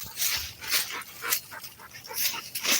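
A dog pants quickly and rhythmically with thin whimpering cries mixed in, close to the microphone and fairly steady throughout with no talk.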